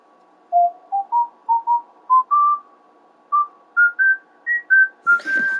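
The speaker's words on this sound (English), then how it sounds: "Right, I knew it was whistling." A clear whistled tune heard in music during a Minecraft game stream, with short separate notes rising in pitch in two phrases, close and clean over a faint steady tone, with a brief noisy burst at the end.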